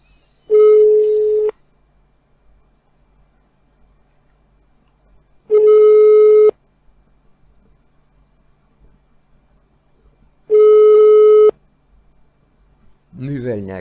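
A telephone call rings unanswered: three identical one-second ringback tones come about five seconds apart through the earpiece with quiet gaps between them, and a voice starts speaking at the very end.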